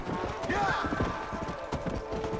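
Horse hooves clip-clop steadily in the Red Dead Redemption: Undead Nightmare video game, with someone speaking German over the hoofbeats throughout.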